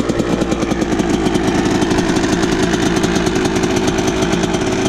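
A rebuilt Yamaha YZ125 two-stroke dirt bike engine running a little rich, giving a loud, close, rapid buzzing putter with an uneven, burbling pulse throughout and no talking.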